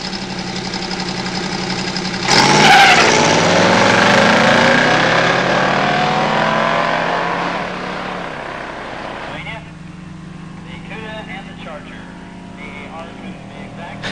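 A 1970 AAR Cuda with a 340 small-block and automatic transmission roars off the line in a pure stock drag race, its loud engine note sweeping up through the gears and then fading away, with a commentator talking over it.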